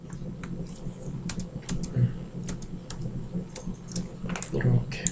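Computer keyboard keys tapped in short irregular clicks during a digital dragonfly artwork lecture, steady and close with a low background hum.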